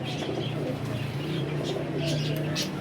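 Pigeons cooing in a low, continuous murmur close by, with soft chirps and a voice talking over the birds.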